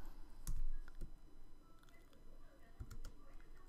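A username typed on a computer keyboard, a few scattered key taps close up and fairly faint over a low hum, with someone talking partly over them.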